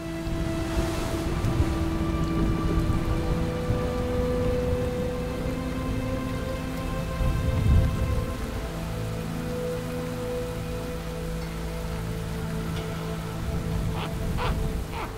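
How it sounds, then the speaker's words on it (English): Steady freezing rain falling and pattering on the tundra, continuous and fairly soft, with a low rumble underneath and occasional sharper drips. "freezing rain like this can be a killer"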